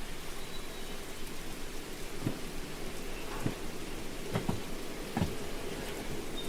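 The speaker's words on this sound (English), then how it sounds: "I'm glad we made it before the rain." Steady rain falls in the Derail Valley train game, a dense even hiss carried through the whole stretch with a few soft thuds and taps mixed in and no voices.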